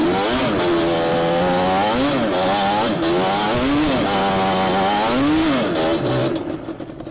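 A Yamaha Banshee-style two-stroke ATV engine revs hard and continuously up close, its pitch swinging up and down in repeated surges before dropping off at the end, with no talk over it.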